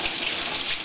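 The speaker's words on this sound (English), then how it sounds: "I sort of run a little water under it" Tap water runs steadily from a kitchen faucet over hard-boiled eggs while they are peeled, a continuous close splashing stream.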